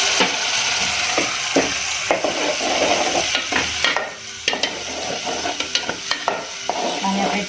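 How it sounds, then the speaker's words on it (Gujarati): Tomato and onion gravy being stirred in a pan over heat for a Gujarati taro-leaf dish (advi nu shaak): steady close sizzling with repeated scraping and clacking strokes of the spoon, no talk. "આ રીતે ચલાવીશું, જેથી કરીને ટામેટાં અને ડુંગળીનું જે ખટ્ટીપણ છે એ નીકળી જાય."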